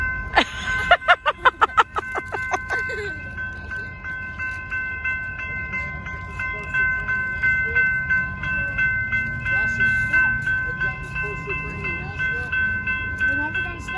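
A train rolls through a road crossing in Tulsa, Oklahoma, with the crossing bell ringing in a fast, repeated metallic clang, then steady wheel rumble and a held horn-like tone as the cars pass close by.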